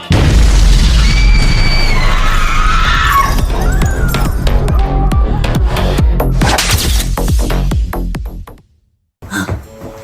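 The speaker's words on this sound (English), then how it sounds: "Was that a grenade?" A grenade going off, loud booms and crashing bursts with sharp repeated impacts and debris-like clatter, then a sudden cut to silence and a short final burst.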